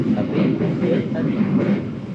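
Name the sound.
Malioboro Express long-distance train running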